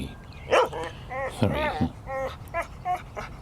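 A dog barks and whimpers in short yelping bursts scattered across the moment, while a person speaks nearby.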